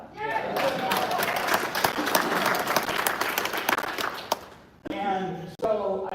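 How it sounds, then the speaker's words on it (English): A conference audience breaks into sustained applause, a dense wash of many hands clapping with cheers, fading near the end as a speaker's amplified voice resumes. "You should clap for that."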